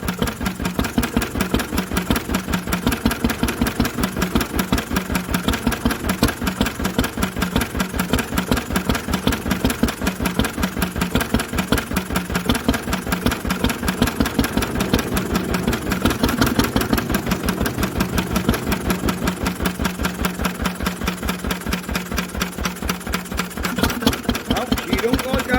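An old Lister engine, running for the first time in 40 years, idles with a steady, rapid, loud chugging thump that continues unbroken from start to finish.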